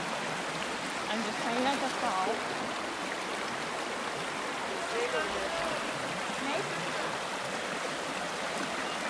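Steady rushing flow of a creek at McCormick Creek, continuous and close, with people talking over it while crossing the water.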